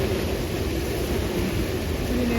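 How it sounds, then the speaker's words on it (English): Strong wind buffets a boat cruising on the Chesapeake after a storm, a loud, steady broadband roar with low rumbling gusts filling the whole clip, no voices. "you hear that wind?"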